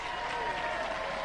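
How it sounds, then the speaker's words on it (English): Studio audience applauding a team at a robot combat competition, a short burst of dense, steady clapping at moderate level with no break. "Ladies and gentlemen, round of applause for GBH."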